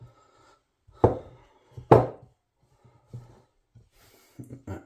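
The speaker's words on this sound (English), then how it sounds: "I knead this together." Shortcrust pastry dough for a chicken and mushroom pie is pressed and kneaded by hand, giving a few soft, dull thumps and squishes spaced irregularly in a quiet kitchen.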